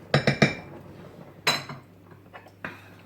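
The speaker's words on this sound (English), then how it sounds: "So I'm popping that lid on there like that." A crockpot lid set down on the pot, giving a few quick close clinks of lid against rim, then two or three lighter rattles as it settles, with no talk.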